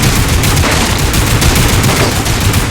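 Dense, rapid gunfire crackles continuously in a Lost Planet 3 firefight, loud and close, with overlapping bursts like a fusillade of automatic weapons and no talk.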